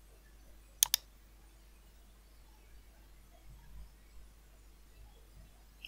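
A computer mouse gives a quick double click, two sharp, close taps in a quiet room, followed by faint low rustling.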